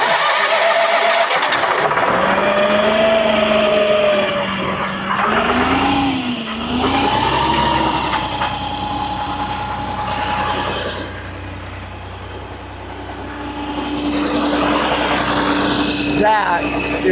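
Skid steer diesel engine running steadily, a loud continuous drone that shifts in pitch as the throttle is eased down to a lower idle, with someone speaking over it.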